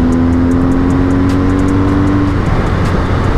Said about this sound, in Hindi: इस बाइक में कुछ अलग सा पागलपन है, रुकने का दिल ही नहीं करता और खींचते जाने का दिल करता है